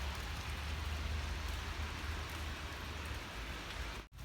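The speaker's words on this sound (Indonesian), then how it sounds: "Hujan dan dingin." Steady cold rain falls outdoors at an old house museum in Sunnhordland, a constant loud hiss of drops on surfaces that cuts off abruptly at the very end.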